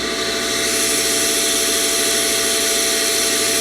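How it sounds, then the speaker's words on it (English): A DCM PDG-5-3 punch and die grinder runs steadily, a loud constant broadband whir and hiss with faint tonal hum underneath, close and unbroken, with no talking. "and of course grinder on now."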